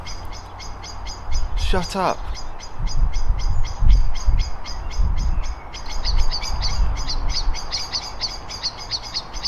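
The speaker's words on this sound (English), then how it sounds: "The first one was ruined by birdsong." Birds singing outdoors, repeated bright chirps and a brief trill near the start, running steadily behind a person who speaks over them.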